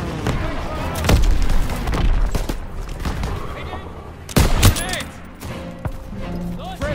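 Battle in Call of Duty WWII, with bursts of rifle and machine-gun fire and a heavy blast partway through, close and loud, while soldiers shout over the fighting.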